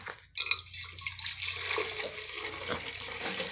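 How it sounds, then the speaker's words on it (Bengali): A freshly blended drink is poured from a blender jar into a bowl, giving a continuous close splashing, gurgling stream that starts abruptly and runs on steadily. "এখন একটা পাত্রে আমি ঢেলে নিব।"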